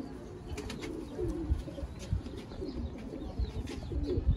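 Sialkoti pigeons coo in soft, repeated low phrases close by, with a few faint chirps and light rustling over a steady background hum.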